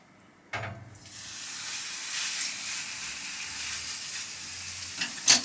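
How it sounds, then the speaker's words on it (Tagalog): Chicken pieces laid skin-side down in a pan of hot oil: a sharp initial hiss followed by a steady, fairly quiet sizzle and crackle that continues alone. "Isi-sear natin yung may part ng skin para yung skin niya crispy pag niluto natin."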